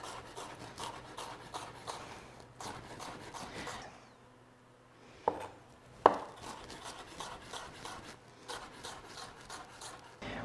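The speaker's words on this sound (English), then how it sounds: "we'll just do some small dice" Knife dicing bell pepper into small pieces on a cutting board, a quick run of rasping, rubbing chops, then a short pause broken by a couple of sharp knocks before steady chopping resumes.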